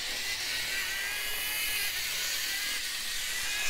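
A Bachmann N scale TGV model train runs at full throttle, giving a continuous high, thin motor buzz and whir, steady and close, with no voices.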